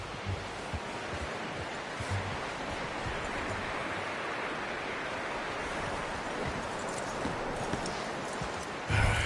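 Horse hooves clip-clop steadily in Red Dead Redemption 2 as a rider brings the horse Taim in to hitch it at camp, a continuous close rhythm over outdoor ambience.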